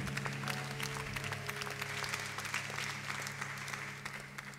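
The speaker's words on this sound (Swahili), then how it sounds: "Pigie Yesu makofi mengi mengi." A church congregation claps steadily for Jesus at a sermon's close, a dense sustained wash of many hands with a low hum beneath, fading slightly near the end.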